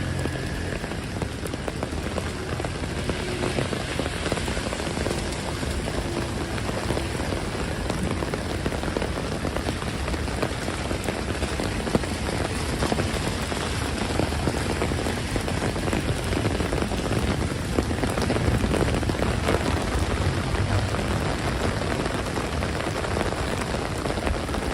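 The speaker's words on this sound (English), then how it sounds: "It's a very, very peaceful view with the rain." Steady rain falls over New York City, a dense, even hiss of drops on surfaces that continues without pause, moderately loud and with no voices.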